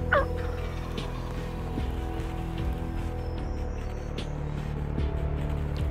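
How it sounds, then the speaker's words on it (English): A wild turkey tom gobbles clearly over a persistent low engine-like drone, and a few shorter calls are scattered through the rest of the stretch. "We're calling, he's calling back, gobbling back and forth."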